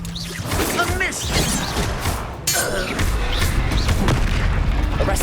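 A Bombarda blasting spell exploding in Hogwarts Legacy, a heavy boom with a crashing burst near the middle amid ongoing combat effects, with a voice speaking over it.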